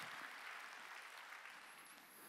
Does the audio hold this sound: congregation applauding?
yes